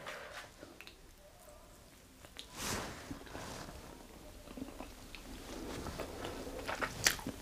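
Biting into and chewing an oven-baked homemade chicken kebab, with soft crunches and wet, moist chewing sounds up close at low volume, ending in a sharper crunch.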